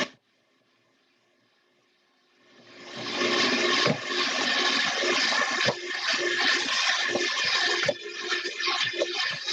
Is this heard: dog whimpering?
no